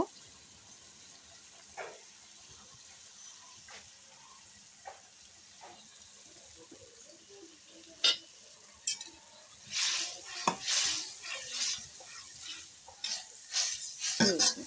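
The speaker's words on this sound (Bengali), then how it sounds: "আমি আদা রসুন বাটা দিয়ে ভালোভাবে এটা কষিয়ে নেব" Bitter gourd being sautéed with turmeric, chili powder, cumin and ginger-garlic paste for a village-style tangra fish curry, quiet sizzling with scattered spoon scrapes and clinks against the pan, growing into louder, busier stirring and frying toward the end.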